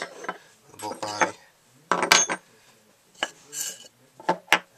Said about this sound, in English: And that is how you disassemble the bolt for cleaning or whatever.